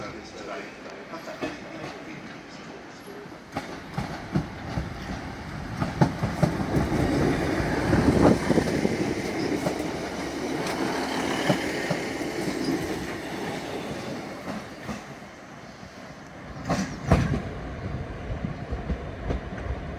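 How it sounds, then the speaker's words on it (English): A Class 150 diesel train arriving at Manchester Piccadilly station, rumbling in with clacking wheels and a brief squeal, building to a loud peak midway, with station ambience and other rail noise around it. "Arriving now is another class 150."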